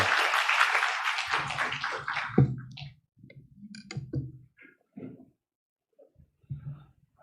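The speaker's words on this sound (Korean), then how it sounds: "하나님께 영광의 박수 올려드리겠습니다." Korean church congregation clapping in applause during an afternoon worship service, a loud dense burst of claps for the first couple of seconds that quickly thins out and fades into scattered sounds.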